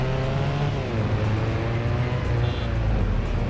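A car in a racing video game weaves through traffic, its engine holding a steady, loud droning tone that shifts slightly in pitch as it drives on.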